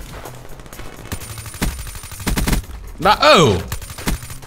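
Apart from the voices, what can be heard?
gunfire in Black Ops 3 video game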